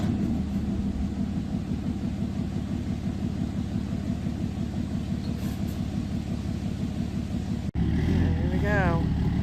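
A truck's engine idles in a steady low rumble while it slowly backs a tilt trailer carrying a shipping container into place, ending in a sudden cut to a brief, different-sounding passage.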